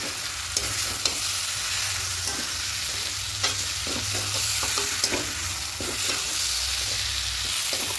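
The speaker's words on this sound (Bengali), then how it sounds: "খুব ভালো করে সব কিছু মিশিয়ে নেবো" Vegetarian khichuri of sun-dried rice, mixed with sugar, stirred and fried in a pot: a close, steady sizzle with repeated scraping strokes of a spoon throughout, no voices.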